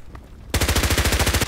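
An H&K MP5k submachine gun firing in the shooter game Contract Wars: after a brief quiet pause, one loud, close, rapid full-auto burst of about a dozen evenly spaced shots, with no talking.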